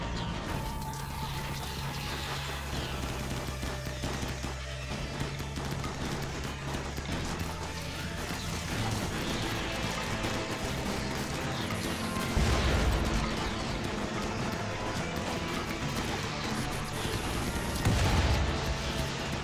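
Turret fire in the colony game RimWorld, a dense stream of rapid shots and impacts layered over game music and ambience, with a couple of louder bursts standing out midway and near the end.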